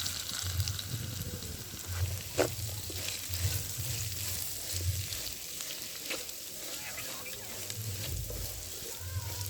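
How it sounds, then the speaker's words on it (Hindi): Potato pieces fry in a pan with spices, giving a steady close sizzle broken by periodic scraping and stirring strokes. "मसाले के अंदर अच्छे तरीके से भून लेंगे।"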